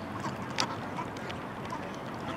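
Ducks on a swan pond in Leipzig give a few scattered quacks over a steady outdoor background of water and distant noise, with one brief sharper call standing out.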